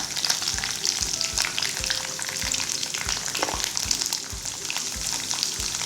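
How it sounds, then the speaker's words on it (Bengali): Onions frying in hot oil for restaurant-style chilli chicken make a steady, close crackling sizzle, with regular soft scraping strokes of stirring running through it throughout. "তেলে ভেজেছিলাম, ওই তেলেই আমি আগে পেঁয়াজগুলো দিয়ে দিলাম"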